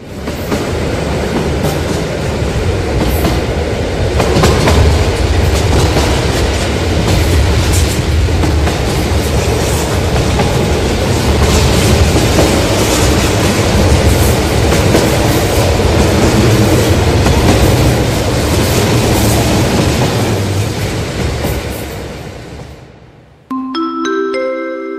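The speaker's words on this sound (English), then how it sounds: "The train is leaving." Train running on tracks in the Roblox game, a loud continuous rumble with rhythmic clickety-clack of wheels that cuts off near the end, followed by a brief chime.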